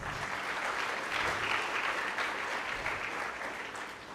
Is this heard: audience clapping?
yes